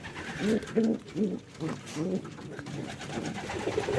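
Marbled homing pigeons coo close by in soft, repeated low rolling calls, several phrases in a row with faint background noise.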